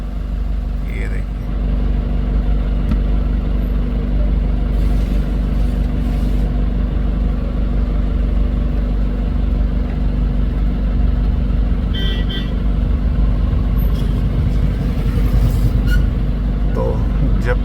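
Cars, buses and trucks sit idling in halted traffic on a mountain road in Uttarakhand under a red alert with falling rocks ahead, a constant low engine rumble with occasional brake hiss and distant voices.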